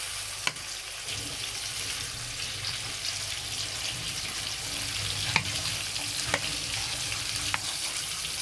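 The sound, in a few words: rohu fish frying in oil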